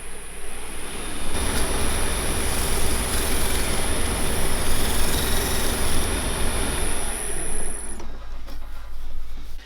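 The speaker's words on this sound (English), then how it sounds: "I'm going to do now is just get this bit of Scotch-Brite, and I'm just going to quickly denib the texture" A wood lathe spins steadily while a texture is denibbed with a Scotch-Brite pad, giving a constant loud mechanical hum and broadband hiss that runs for about eight seconds before dropping away, with no talk.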